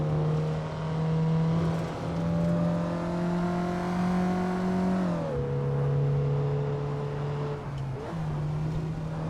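Mazda MX-5 engine in the racing sim Assetto Corsa, a moderate buzzing four-cylinder note that climbs steadily in pitch, drops sharply at a gear change, then climbs again before another brief shift.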